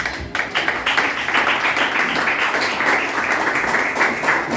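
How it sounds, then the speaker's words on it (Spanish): A church congregation claps as an offering of praise during a sermon, a loud, steady wash of applause from many hands that continues evenly throughout with no talk over it. "te honramos con una fuerte ofrenda de aplausos"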